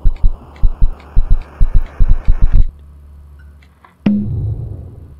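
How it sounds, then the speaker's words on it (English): A loud thudding heartbeat pulses in steady double beats from the video game KinitoPET, then cuts off abruptly and gives way to a low droning hum. "Why is it like a heartbeat?"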